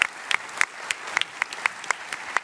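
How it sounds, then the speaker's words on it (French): Sparse, scattered hand claps from a small audience at a French political gathering honouring a député. The claps are uneven and separate rather than a dense roar, around ten distinct claps at moderate distance. "je crois qu'on pourrait l'applaudir"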